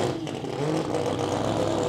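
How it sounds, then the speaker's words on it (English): A Mazda RX-7 with a 20B rotary engine runs at a drag strip during test and tune, a steady loud engine roar with a buzzing, revving drone, heard from a distance without voices. "20B rotary in the RX-7"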